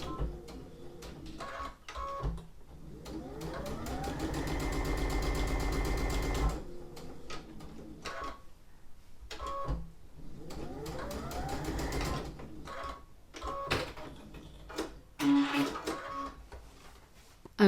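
A ScanNCut-era sewing machine stitching a quilted cushion along a half-inch fold line: close, rapid mechanical whirring in two long runs with rising pitch, separated and followed by clicks and handling noises.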